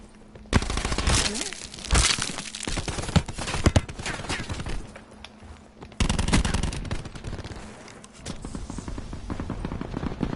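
Rapid automatic gunfire from the Brawler in the video game Blackout, loud, dense bursts of shots that come in repeated volleys, with brief pauses between strings of fire.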